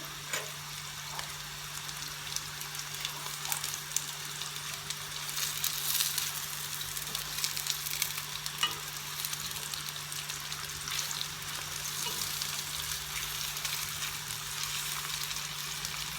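Butter and powdered red pepper sauce sizzles steadily in a pan, a continuous close frying hiss with soft crackle throughout, no voices.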